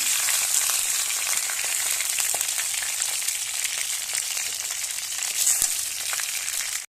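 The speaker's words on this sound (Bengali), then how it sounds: "তেলাপিয়া মাছগুলো ভাজা হতে হতে কিন্তু আমি এগুলো কেটে নেবো।" Tilapia fish frying in hot oil, a steady, dense crackling sizzle that stays loud throughout with scattered sharper pops and no talking.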